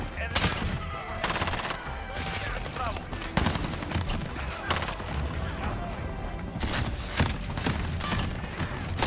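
Sustained video game gunfire in Modern Warfare, loud rapid bursts and automatic fire with heavy thumping impacts, continuous over the whole stretch, with a voice speaking over the shooting.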